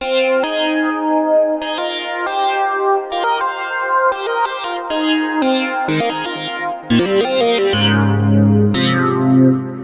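A vintage Oberheim synthesizer plays a string of bright, buzzy notes with a chorused, slightly distorted edge, ending on lower, heavier held tones; no voices.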